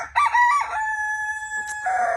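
A rooster crows nearby, a long drawn-out call with a rising start and sustained tone, followed by a brief squawk from another bird.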